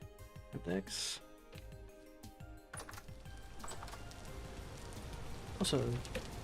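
Rain falls outside in Vintage Story as a steady, soft hiss of drops. Someone talks over it, and a few sharp clicks and knocks stand out.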